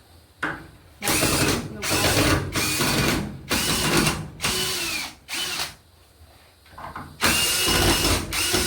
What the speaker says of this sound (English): We are going to uninstall the screws.